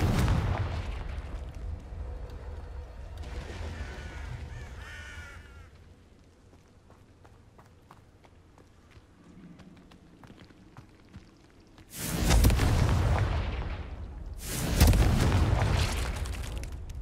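In the Hogwarts Legacy video game, Confringo blasting-spell explosions strike near an Acromantula cave, with two heavy, loud booms late on over quieter ambient rumble and scattered clicks.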